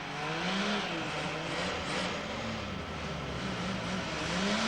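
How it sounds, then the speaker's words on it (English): A Holden six-cylinder engine warming up on a car production line, a steady, continuous engine drone with a low, slightly wavering hum, moderately loud and unbroken, with no talk. "this once familiar sound of a Holden 6 warming up"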